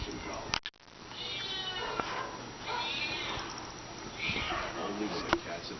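A cat meows several times, fairly clear and mid-loud, over a television broadcast in which people talk about cats rescued by the Houston SPCA.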